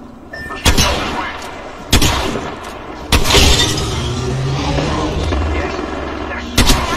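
Gunfire in the battle royale game Apex Legends: several loud, sharp shots spaced a second or more apart, each followed by a rumbling tail over continuous background game noise.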